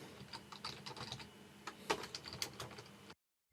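A computer keyboard clicks with quick, irregular keystrokes as a search phrase is typed, close and fairly quiet, with no talking, ending in a short silence.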